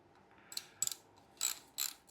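Quick bursts of ratcheting clicks come from a wrench snugging down fairing bolts on a 2006 Harley-Davidson Dyna. Several short rapid runs of clicks are separated by pauses, close by and fairly quiet.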